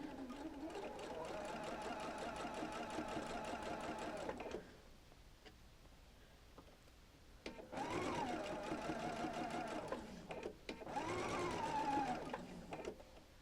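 A sewing machine stitches along a curved seam of a Double Wedding Ring quilt in loud, steady runs, pausing briefly in between as it is stopped and restarted, with no one speaking.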